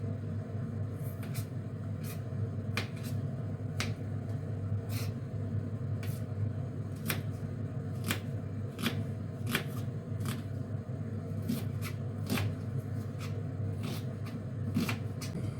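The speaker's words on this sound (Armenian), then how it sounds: "մանրացնում եմ սոխը" Onion chopped with a knife on a board, a long run of crisp, irregular taps close by over a low steady background hum, with no talk.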